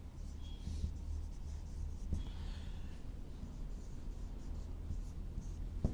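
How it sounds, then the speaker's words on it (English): Marker or chalk writing chemistry ligand names on a classroom board, soft scratchy strokes coming in short bursts over a faint low room hum, with occasional breathing nearby. "Let me write negative ligands."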